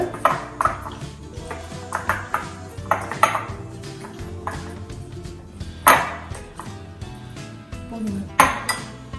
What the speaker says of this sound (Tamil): இந்த மாதிரி நல்லா ஃபோர்க் வச்சு மசிச்சுக்கோங்க